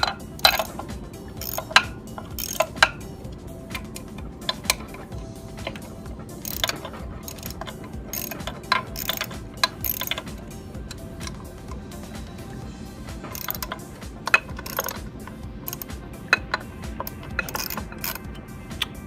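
A socket wrench ratchets steadily with quick clicking bursts and short pauses as four motor mounting bolts are loosened, close and clear, with no talking.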